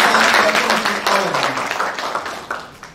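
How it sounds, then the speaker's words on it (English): Applause from an audience at a graduation day ceremony, a broad wash of clapping that stays steady and fairly loud, then slowly thins and fades over a few seconds. "Let's give a big round of applause"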